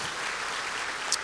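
Continuous applause from a church congregation, a steady wash of many hands clapping at an even level.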